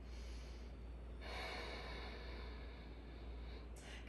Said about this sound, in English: powerful Ujjayi breathing.